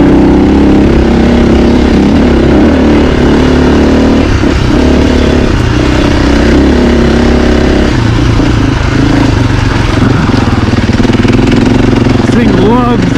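A 2024 Husqvarna FE450 dirt bike engine lugs at low revs while being ridden, a loud continuous rumble close to the mic with wind buffeting throughout and a rider's voice talking over it.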